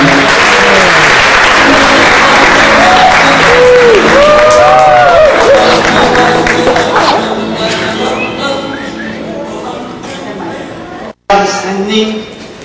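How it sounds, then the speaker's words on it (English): Audience applause at a wedding reception at a Marriott, loud and sustained, with voices and chatter mixed in and slowly fading before a brief cut. "give a round of applause to Jitendra Bhai Aisha Ben."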